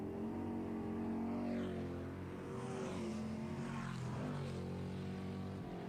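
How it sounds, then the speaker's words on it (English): Stock car engines roar around a dirt-and-asphalt speedway oval, a loud sustained drone with shifting pitch as several cars pass, swelling and fading without any talk. "how sweet is the sound of stock car racing?"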